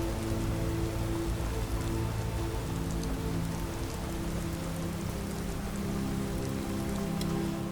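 Rain falls steadily in a modded Skyrim-style game, a soft, even patter of drops on surfaces with a low rumbling bed beneath, constant and unbroken throughout.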